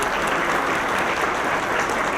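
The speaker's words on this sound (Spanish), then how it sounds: "yo pediría un aplauso de entrada para todo el personal." An audience applauds at the closing ceremony of a personal data protection diploma course. The clapping is dense and steady, filling the room evenly from start to end.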